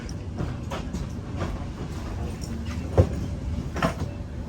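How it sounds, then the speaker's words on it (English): A new electric train on the Southport third-rail line near Meols Cop rumbles steadily up close, with a few sharper clanks and clatters from the running gear partway through. "There's quite a few of these new trains up here now."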